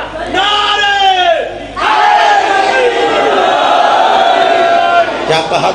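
Large crowd at a Pakistani religious gathering chanting slogans in loud unison, voices rising and falling in sustained surges with a brief break near the two-second mark, carrying on without pause to the end.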